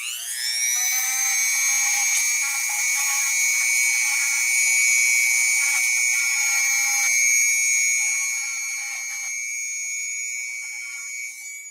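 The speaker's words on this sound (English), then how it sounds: "All right, so we cleaned that up with the Dremel." A Dremel rotary tool cleaning up a disc on a sewing machine part runs as a steady, loud high-pitched whine, near and continuous, easing slightly toward the end with no talk over it.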